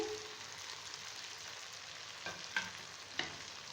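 Spices for a Lahori chickpea curry fry in a pan while being stirred, a quiet continuous sizzle broken by a few light scraping clicks from the spoon near the end.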